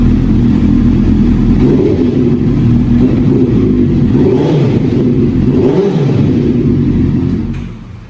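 A sport scooter motorcycle engine revs loud and close, with a rounded mid-pitched rumble rising and falling through a few throttle blips before cutting off at the end.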